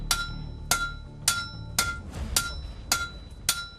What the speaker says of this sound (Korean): 쇠를 다루는 망치질 소리